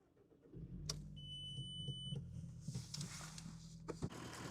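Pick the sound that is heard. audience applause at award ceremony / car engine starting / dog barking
car engine starting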